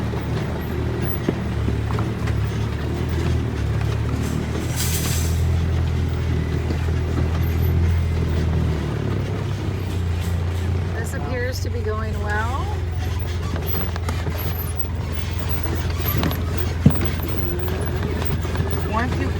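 A vehicle rolls slowly downhill over a bumpy, potholed dirt road with the brake on, its low engine rumble and rattling jolts continuing steadily throughout, while a person talks over it.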